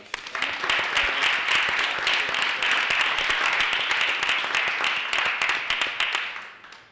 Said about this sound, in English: So I'd like a round of applause for us.